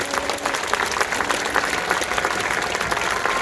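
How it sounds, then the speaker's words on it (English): A large audience at a marching band awards ceremony claps loudly and continuously, a dense, even wash of applause. "Let's give a round of applause for the remarkable bands in Class 3A."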